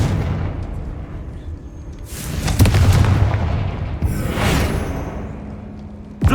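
Booming blasts from the Confringo fire spell in the Hogwarts Legacy video game, two heavy explosions a couple of seconds apart over a rumbling game background, with no talk.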